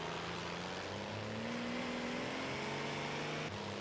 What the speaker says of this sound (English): Oh yeah, listen to that shift